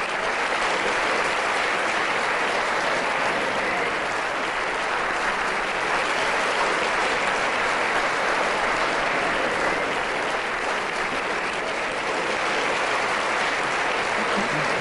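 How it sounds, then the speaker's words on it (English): Sustained, dense applause from a large crowd at the 2017 PCB cricket awards ceremony, loud and even throughout without pauses. "Big round of applause for Ms. Bowler."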